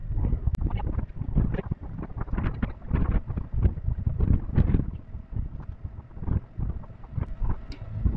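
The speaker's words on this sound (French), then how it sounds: "Ah, ce vent de merde." Strong gusty wind buffets the microphone with loud, rumbling low roars that surge and ease repeatedly, no voices heard, while sailing between Lanzarote and Fuerteventura.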